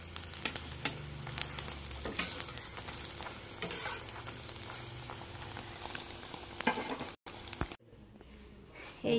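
Eggplant and parathas fry in a pan with a steady, close sizzle and scattered crackles and stirring scrapes throughout, until a brief dropout near the end.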